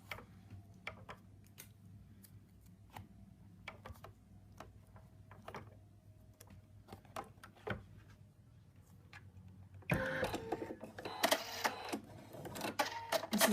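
An embroidery machine stitches an outline to secure fabric to stabilizer, a quiet steady run of mechanical ticks and clicks up close, turning busier and louder with rattling bursts near the end.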